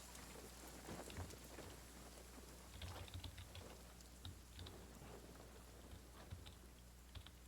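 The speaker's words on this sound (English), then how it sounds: "rain's picked up" Steady rain falls in the survival video game The Forest, a dense even hiss that runs throughout, with scattered soft clicks like keyboard taps and no voices.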